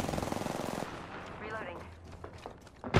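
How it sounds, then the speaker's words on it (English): Rapid automatic gunfire in Apex Legends, played as Rampart, hammers densely for the first second, then thins into quieter game effects with a voice heard, ending on a sharp, loud hit. "Opening fire."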